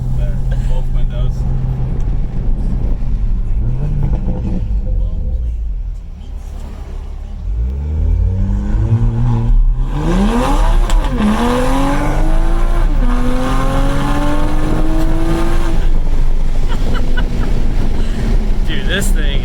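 A 2020 Toyota Supra with a new downpipe installed accelerates hard, heard from inside the car with the windows cracked: a loud engine roar rising through the gears, with people talking and exclaiming over it.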